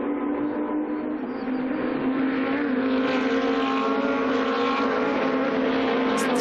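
GT2 race cars, a KTM and an Audi, roar past at Dijon during a Fanatec GT2 European Series race, their engines loud and sustained with a dense, steady drone of several cars at high revs.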